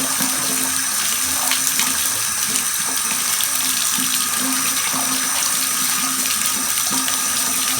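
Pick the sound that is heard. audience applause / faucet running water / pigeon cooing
faucet running water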